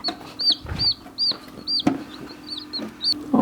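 Newly hatched chicks from home-incubated eggs give repeated high, bright peeps in a steady series, close and clear, with soft handling noises and small thumps beneath.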